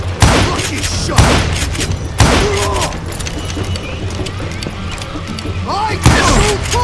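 Repeated six-shooter gunfire in a Wild West gunfight in Call of Juarez Gunslinger, five or so loud, close shots spaced roughly a second apart with ringing tails, shouted voices between them.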